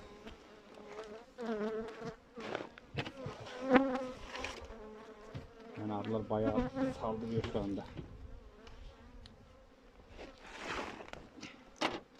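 Honeybees buzzing around an opened hive during winter sugar feeding, close and intermittent humming whines rising and falling as individual bees fly past, fairly faint, with no voices.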